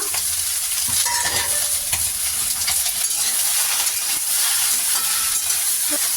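Eggplant and chopped raw onion sizzle steadily in a hot pan while a utensil stirs and scrapes through them, with occasional clinks against the pan over the constant frying hiss.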